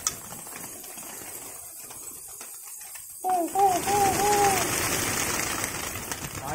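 Pigeons in a loft cooing in a short run of several rising-falling calls, close and moderately loud, over a steady outdoor hiss.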